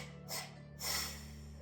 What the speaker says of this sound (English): we're going to do 5 sniffs and 5 blows.